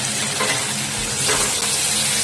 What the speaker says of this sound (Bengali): আলুটা আমি মশলার সাথে আরও 5 মিনিট ভালো করে কষিয়ে নেব।